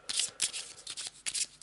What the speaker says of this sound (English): put the discard deck and what we've got left here all together